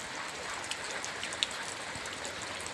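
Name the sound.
rain falling on a farm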